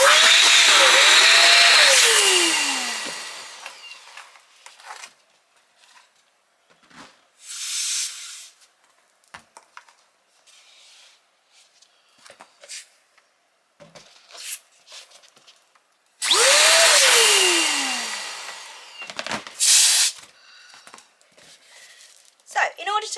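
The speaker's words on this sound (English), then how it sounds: "we'll inflate all of these, and you can watch me do that" A hand pump inflates twisting balloons for a balloon stack, two long loud hissing bursts of air with rising squeaky tones, separated by quieter handling rustles and short clicks.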